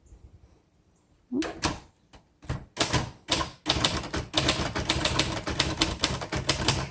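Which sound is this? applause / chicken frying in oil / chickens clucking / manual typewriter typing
manual typewriter typing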